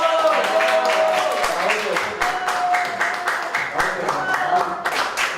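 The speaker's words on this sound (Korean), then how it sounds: "제 동지를 힘찬 박수와 함성으로 모시겠습니다." A crowd at a rally applauds and cheers loudly and steadily, with dense clapping and scattered shouts filling the whole stretch.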